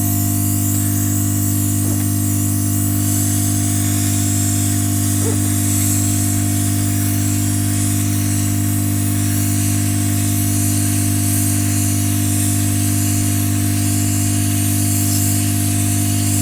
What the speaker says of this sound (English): So I'm going to put on the hot air blower. You might hear some noise.